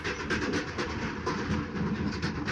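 A moving train in the video game The Doll Beneath rumbles steadily with rhythmic clickety-clack of wheels over rails, a continuous close interior rattle and hum with no talk.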